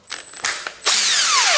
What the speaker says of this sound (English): And now I use again this electric drill driver